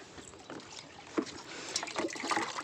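Liquid fertilizer poured onto young plants in green grow bags on a rooftop garden, a soft close trickle and splash of water-like liquid with a few sharper drips, no talking.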